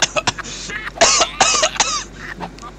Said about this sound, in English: The cockroach is coughing